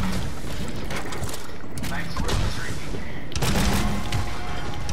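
Grenades launched and exploding in a video game while playing as the character Dredge: repeated booming blasts and bursts rise out of a dense, constant wash of battle noise.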